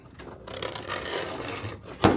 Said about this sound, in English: I'm going to use this little bladesmith scribe to make my mark.